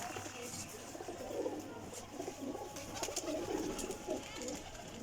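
Pigeons coo repeatedly in soft, low, rolling calls at a pigeon keeper's loft, with faint background murmur around them.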